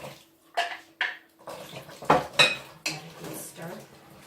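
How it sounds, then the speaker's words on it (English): Beef stock sloshes and splashes into a pot of stew vegetables, a series of close wet pours with clinks of metal against the pot, a faint voice in the background. "So now I'm going to put in my 3 cups, which is a pint of beef stock."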